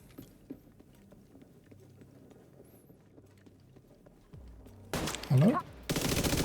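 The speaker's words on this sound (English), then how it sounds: "Oh, some shooting." Video game gunfire: quiet, muffled background noise at first, then a loud burst of rapid, dense shots in the final seconds.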